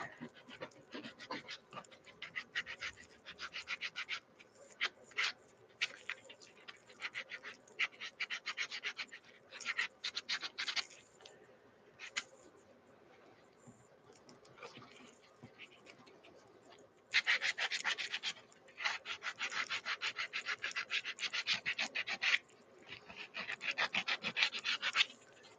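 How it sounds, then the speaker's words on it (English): Hand sanding on a woodworking project makes a raspy scratching that comes in uneven bursts over about 25 seconds, louder and more continuous toward the end, close up with no talk. "this sanding will definitely put you to sleep"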